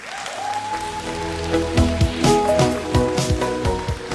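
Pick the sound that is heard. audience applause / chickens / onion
audience applause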